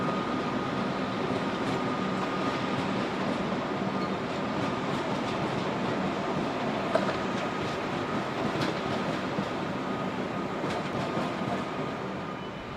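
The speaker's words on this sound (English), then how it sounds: "this is one of the brand new Series 2 velocities with the really wide" A new Series 2 VLocity diesel passenger train rolls past steadily in Melbourne, a continuous rumble with rhythmic clicking of wheels over rail joints throughout.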